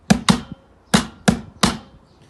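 Five sharp drum hits played as a rhythm demonstration, loud and close, grouped as two quick strokes, a pause, then three evenly spaced strokes, with no talk over them.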